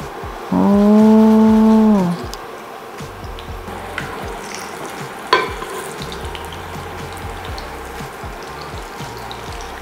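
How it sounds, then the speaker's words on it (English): Burger patties frying in hot oil, a steady close crackle and sizzle heard throughout, interrupted early by a loud sustained tonal horn-like sound and later by a sharp clatter. "So now my oil has heated, it's time for me to cook down my patties."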